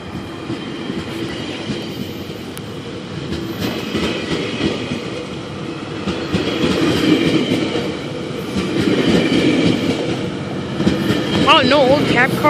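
A 10-car subway train runs through Danforth station, a steady rumble and rattle of wheels with some squealing that grows louder toward the end, heard from the platform.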